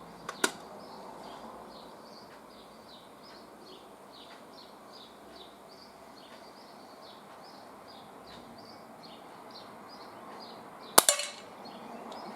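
Swiss Arms Sparrow air pistol fired during a 10 metre competition, a single sharp near crack late on after a long quiet stretch with faint steady chirping background and a small click near the start.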